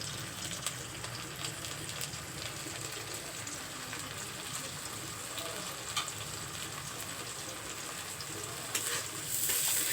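Chicken roast frying in a pan just after dry chili powder goes in, a continuous dense hiss and sizzle heard close up with faint stirring underneath and no talking.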